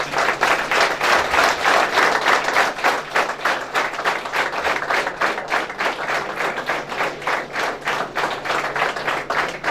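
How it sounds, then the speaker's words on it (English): A standing audience at Rama Krishna Math gives a round of applause in respect and admiration, clapping in a strong, rhythmic unison beat that stays loud and steady and then grows slightly looser toward the end, with no voices over it. "Can you all stand up please, in respect and admiration"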